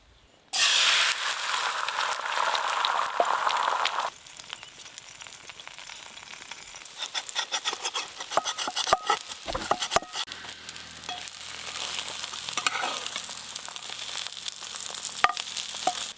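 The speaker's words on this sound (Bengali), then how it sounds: "আবারও ডিম ভেজে নেব" Eggs frying in a pan, a steady loud sizzle that eases after a few seconds into a softer crackle with scattered sharp pops and spatters.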